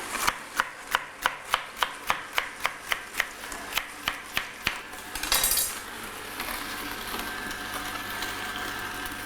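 A Motiv1 juicer works through celery stalks, starting with a steady series of sharp, evenly spaced clicks, then a brief crunching burst and a continuous mechanical whir.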